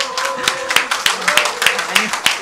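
An audience claps in welcome at a public debate forum held at Gwanghwamun Square, Seoul, with scattered, fairly sparse individual claps and a voice speaking underneath.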